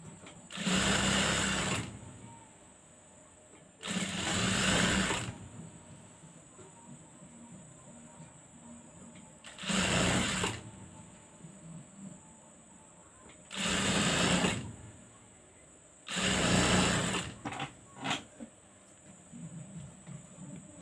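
Sewing machine stitching the gathered frill to the front body of a baby frock, running in five loud bursts of steady mechanical whirring separated by quiet pauses, with a faint voice in the background.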